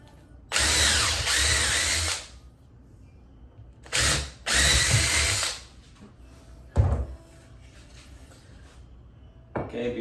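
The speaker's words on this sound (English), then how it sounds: "So now I drill these holes." Power drill boring holes through wood for a cabinet hardware jig, three separate bursts of whining drilling, the first about one and a half seconds long, with short quiet pauses and a brief knock between them, close and loud.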